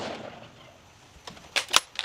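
A Winchester .243 deer rifle round is fired at a steel anvil, heard as a cluster of sharp, loud cracks and impacts near the end after a quiet lead-in.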